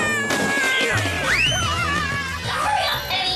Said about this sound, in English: I believe this is your cat.